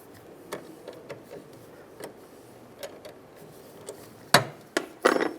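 Small metallic clicks and ratcheting ticks from a 10mm wrench loosening the negative battery terminal on a Chevrolet Silverado, sparse at first and then sharper, louder clacks near the end, close and quiet.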